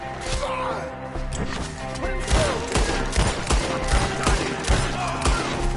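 Video game gunfire aimed at enemies up in the trees, loud bursts of rapid shots and impacts crowding together over a busy battle din, with shouted voices mixed in.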